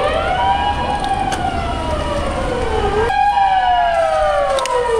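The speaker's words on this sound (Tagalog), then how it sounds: "Teka lang, may ambulansya. Malayo pa." Ambulance siren wailing along a rainy street in Japan, loud and continuous with sweeping pitch that drops and restarts as it passes, over steady traffic rumble.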